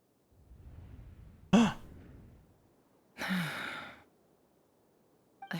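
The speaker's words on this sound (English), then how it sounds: "I heard Yehuda gasp" Yehuda, a character in Genshin Impact, gives two short breathy gasps a couple of seconds apart over a faint low background hum.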